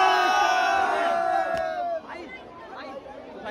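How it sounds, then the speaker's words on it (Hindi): Large crowd at a fan meetup at Delhi Haat cheering and shouting together, a loud dense roar of many voices that eases slightly partway through but keeps going. "बहुत ही ज्यादा भीड़ है, बहुत क्राउड है"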